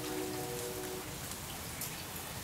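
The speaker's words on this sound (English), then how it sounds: "what do you think of the rain?" Rain falls outdoors in Houston, a soft, steady patter of drops that stays faint and even for the whole moment.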